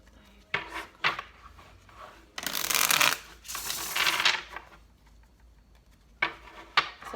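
Tarot cards are shuffled in riffled bursts, with short crisp clacks and a longer dense rustle in the middle, close and moderately loud, no voices.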